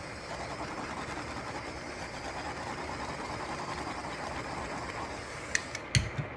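A tumbler cup turner spinning on its motor gives a continuous, even mechanical whir, close by and steady, with a few sharp clicks near the end.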